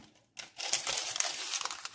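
Parchment paper crinkles and rustles close by in a dense burst of crackling after a brief quiet start.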